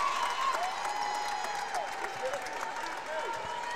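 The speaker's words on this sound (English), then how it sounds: "Tarbutton gets some applause from the Nicky Rowe faithful" Home crowd applause at a Rowe High School boys' basketball area playoff game in a gym as a substituted player checks out, steady moderate clapping and cheering across the whole stretch with a commentator talking over it.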